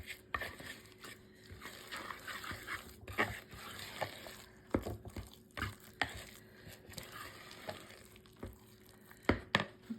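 Low-carb banana bread batter is stirred by hand in a bowl without a mixer. Quiet scraping and sloshing is broken by intermittent sharp clinks of the utensil against the bowl, with no voices.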